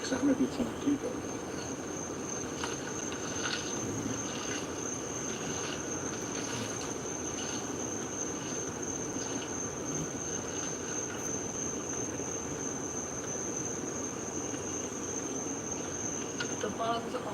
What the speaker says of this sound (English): all I hear is just crickets and just bugs all in the forest